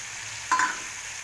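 Soaked tomato paste with cumin, chili and turmeric hits a hot pan of oil for a mustard bhetki curry, giving a brief sizzling burst with a stir partway through, then a steady low fry underneath.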